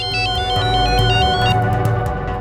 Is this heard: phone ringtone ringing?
yes